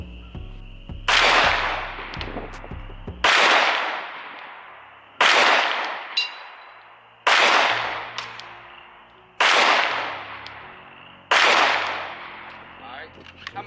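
Six sharp Glock pistol shots at a shooting range, each a loud, close crack with a ringing echo tail, spaced about two seconds apart, with a faint voice before the first.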